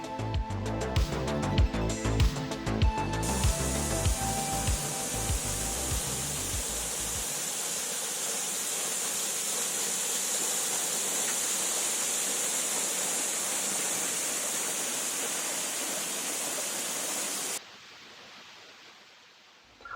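A steady, broad rushing roar of a roadside waterfall in Arunachal Pradesh, India, with music playing over it at first, then the roar dims abruptly near the end.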